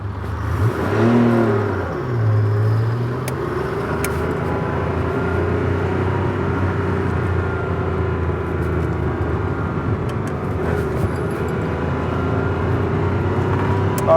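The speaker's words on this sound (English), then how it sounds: "First gear, second gear. Listen to that 12-cylinder." A 1984 right-hand-drive Ferrari 512BBi's 12-cylinder engine pulls through first and second gear, a continuous droning roar with a brief rev change near the start, steady and loud throughout.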